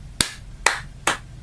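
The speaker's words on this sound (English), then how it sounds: "can we have a round of applause for the main man himself" A round of applause rendered as four separate sharp clap-like bursts, evenly spaced and fairly loud, each decaying quickly against a quiet background.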